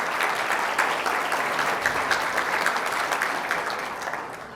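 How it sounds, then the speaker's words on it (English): Sustained applause from a large audience at a community State of the Town event, a steady dense wash of clapping close and loud throughout, tapering slightly at the end. "Let's give them a round of applause, shall we,"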